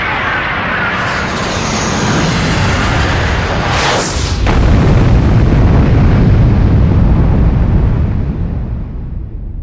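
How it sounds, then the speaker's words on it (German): A massive explosion of a projectile from the sky striking a rocky clearing roars out as a sustained, heavy rumble, with a sharp crack midway before the booming blast swells louder and slowly fades. "In einer gewaltigen Explosion schlägt das Geschoss aus dem Himmel in eine felsige Lichtung zu Füßen der Freiheitsberge ein"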